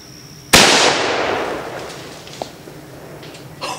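A single loud, sharp blast from a Traditions Vortek .50 caliber black powder muzzleloader pistol fired outdoors at a watermelon, with a long booming decay and faint small sounds afterward.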